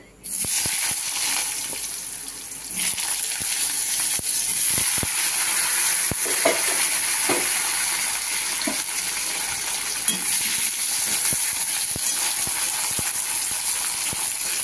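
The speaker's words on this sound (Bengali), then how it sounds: "এবার আমি দিয়ে দেবো আলুটা তেলের মধ্যে" Thinly sliced potatoes dropped into hot oil, breaking into a loud, close, continuous frying sizzle with scattered crackles and pops that carries on steadily, with no speech over it.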